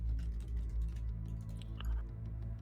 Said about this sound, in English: And the loudest typer ever.